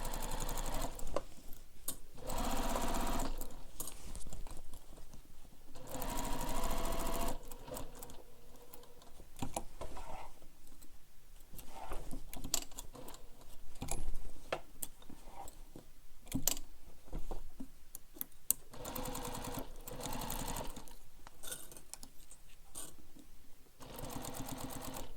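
A sewing machine stitches the seams of a backpack in repeated bursts, fast rattling runs starting and stopping with short pauses between them, close up and fairly quiet, with occasional handling clicks.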